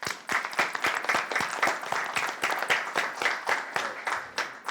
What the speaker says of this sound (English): So I want to give him at least a round of applause.